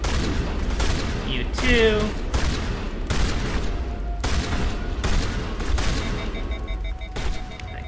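Gunfire crackles through a Mass Effect Legendary Edition battle on Feros, rapid bursts and heavy booms repeating in dense waves while a player talks briefly over the din.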